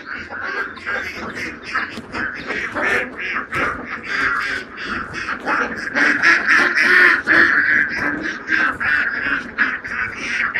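Ducks quack steadily at a farm pond where birds about five months old are kept, a dense, overlapping chorus of many loud nasal calls that continues without pause and grows slightly busier toward the end.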